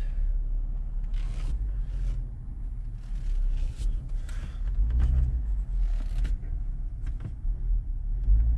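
A Cadillac at a car dealership being steered out with the wheel cut hard, a steady low engine rumble running throughout with scraping and rustling noises on top, fairly close, and no talking.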